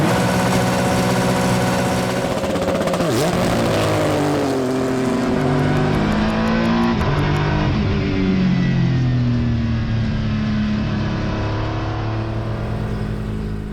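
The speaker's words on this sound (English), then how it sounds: "build up the revs all the way to red line" Honda NSX GT3 Evo race car engine, loud and close, idling, then climbing steadily in pitch as the revs build toward the red line and hold near the limiter, a continuous harsh mechanical roar with no voices.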